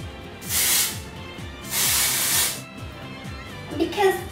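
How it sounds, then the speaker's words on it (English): Two separate hissing bursts from a pump hairspray bottle sprayed onto hair, each about half a second to a second long, close and fairly loud, with faint rustling afterward. "I'm gonna just pump a bit of hairspray so it's long lasting"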